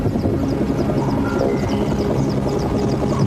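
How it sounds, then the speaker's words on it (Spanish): Helicopters flying over Chernobyl during the disaster response give a loud, steady rotor thrum with a continuous engine whine, heard alone without talk. "Desde el cielo, los helicópteros arrojan toneladas de un líquido pegajoso"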